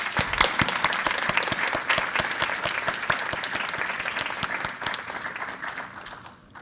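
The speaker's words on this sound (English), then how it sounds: "Can we give them all a round of applause?" An audience at a community college conference keynote gives a round of applause, a dense crackle of many hands that holds steady and then tapers off toward the end.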